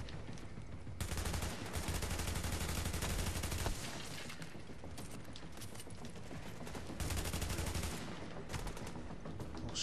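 Gunfire in The Division during a Times Square power relay mission, with dense bursts of rapid automatic shots and sustained firefights that ebb and surge, fairly faint overall, with no talk over it.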